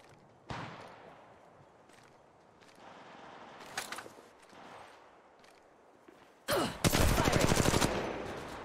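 Gunfire in the mobile shooter Apex Legends Mobile, playing as Wraith: scattered single shots and footsteps, then a loud sustained burst of rapid automatic fire near the end, with almost no talking.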